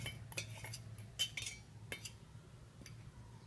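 A garlic, ginger and chili mix is spooned onto cleaned small shrimp in a bowl, giving a few faint, scattered clinks of cutelry against dishware in a quiet room.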